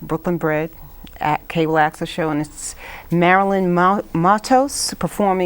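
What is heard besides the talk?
No everyday noise stands out behind the speech.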